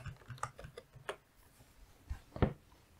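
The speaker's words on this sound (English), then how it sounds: "You might want to type in here the word Juniper." A computer keyboard being typed on, quiet scattered key clicks in short irregular bursts, close and faint with no talk.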